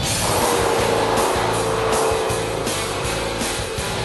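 A 2003 Mercury Marauder with a 4.6-liter dual overhead cam V8 drives at speed, its steady engine drone and road noise filling the cabin loudly and continuously.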